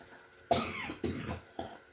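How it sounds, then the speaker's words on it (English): A person with COPD coughing three times in quick succession, close and fairly loud, each cough harsh and chesty with a short rasping tail, with no speech. "COPD cough."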